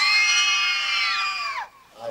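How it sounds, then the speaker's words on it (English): Extras on a movie set at Old Tucson Studios scream in fear together, a loud, sustained, high-pitched chorus of voices holding for about a second and a half before breaking off abruptly. "Let's hear a little screaming and fear right now for me."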